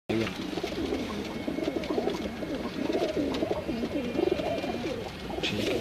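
Blue Kamagar breed pigeons cooing, a soft repeated throaty burble from several birds close by, continuous and layered over light background noise.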